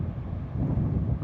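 Wind buffets a camera microphone outdoors during a spring tahr hunt on the east coast, beside a spotting scope on a phone mount. A constant, close, low rumbling roar fills the whole short stretch with no voices.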